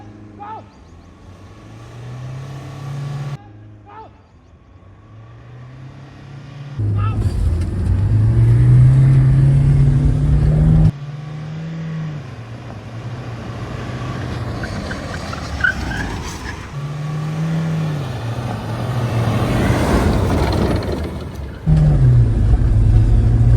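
A Mahindra Scorpio N and a Scorpio S10 4WD SUV in a drag race, engines revving hard and rising in pitch through repeated loud acceleration runs, with the growl swelling and dropping between bursts.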